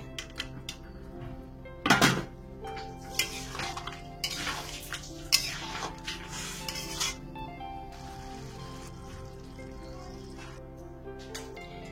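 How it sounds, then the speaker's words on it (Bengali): Fried eggs tipped into an egg biryani mixture of potato and spices, with metal spoon clatter and stirring against a pot, irregular scrapes and knocks under soft music. "এবার আমি এই ভেজে রাখা যে ডিমগুলো ছিল সব আমি দিয়ে দিচ্ছি।"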